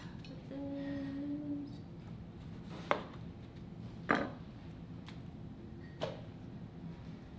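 A knife cuts into a firm green papaya, producing three distinct, sharp chopping knocks spaced a second or two apart, close and fairly quiet against a low background hum.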